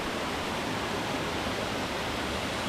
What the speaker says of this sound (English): So we've made it to a waterfall here.